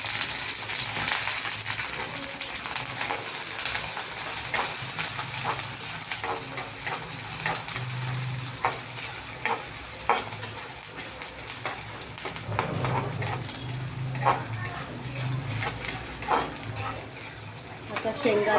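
Onion, green chili and curry leaves fry and sizzle steadily in a pan for a breakfast dish, with a constant hiss broken by repeated scrapes and clinks of a spoon stirring against the metal.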